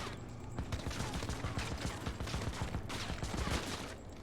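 Enemy gunfire in the video game Cyberpunk, rapid bursts of shots rattling steadily through the whole stretch at moderate level, with no voices over it.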